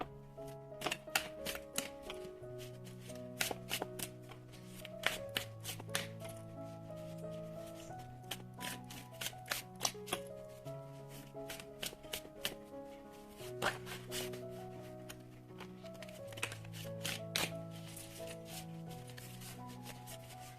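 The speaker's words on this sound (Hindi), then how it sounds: "शुरुआत करते हैं शफल करके" A deck of tarot cards is shuffled, making soft, quick, repeated papery flicks and riffles under quiet melodic background music.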